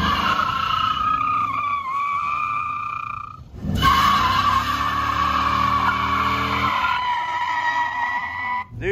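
A car with fog lights accelerates hard, its engine revving and tires squealing loudly for several seconds, briefly dropping before surging again at close range with no talk.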